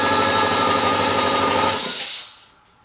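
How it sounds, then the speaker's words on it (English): A direct-drive air compressor runs loud and close with a steady mechanical drone, then winds down and stops near the end. "Now I've got my direct drive one here. Hear Here, this one here sort of goes ka-chunk, ka-chunk, ka-chunk, ka-chunk, and you can hear it sucking up the air."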